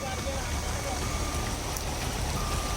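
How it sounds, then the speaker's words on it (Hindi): Heavy rain pours during flooding in Chhota Udaipur, Gujarat, making a dense, steady, loud hiss with no pauses and no voices. "पिछले 24 घंटों से लगातार भारी बारिश की वजह से कई इलाकों में पानी भर गया।"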